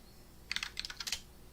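Quiet, fast typing on a computer keyboard, a rapid run of about ten light clicks in a steady patter, close by in an otherwise still room.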